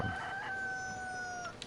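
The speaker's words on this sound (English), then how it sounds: "I'm gonna have to kill that damn rooster" A rooster crows inside the DayZ survival video game on a PS4 private roleplay server, a single sustained tonal call heard faintly at a distance with no talk over it.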